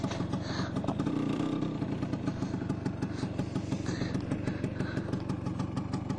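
A Vespa PX200 scooter with a kickstart engine runs steadily during a ride, a continuous loud, close motor drone with busy rattling texture and slight revving throughout.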